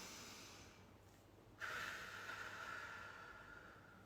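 One long, deep breath drawn in through the nose. It starts abruptly partway through as a loud, airy rush and then slowly fades, with no talking.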